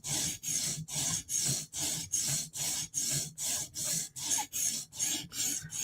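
A Spyderco knife has its heel sharpened in a quick run of even, rhythmic rasping strokes, about fourteen in a row, close up and clear with no talk.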